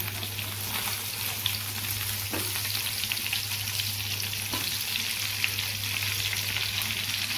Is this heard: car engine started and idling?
no